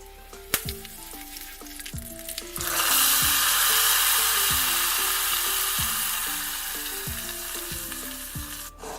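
A few light clinks of a spoon, then a sudden loud sizzle as a tempering laced with fenugreek powder hits pineapple curry in a Kerala kitchen. The hiss stays strong and slowly fades, with no talking.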